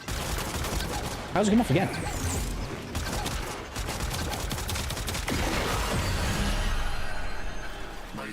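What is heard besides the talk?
gunfire in the video game Warframe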